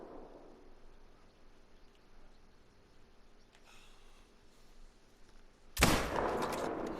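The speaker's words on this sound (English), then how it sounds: "These guys did not hear the gunshot." In a mule deer hunting video game, quiet ambience for several seconds, then a single sharp, loud rifle shot cracks near the end and rings out with a lingering tail.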